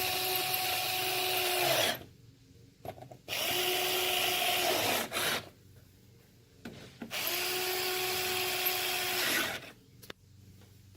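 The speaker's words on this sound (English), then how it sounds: "Got my trusty Black & Decker. Always have Torx on hand for BMW." A Black & Decker power tool drives Torx screws on a BMW grille in three long, steady whirring bursts, with brief quiet gaps and small clicks between them.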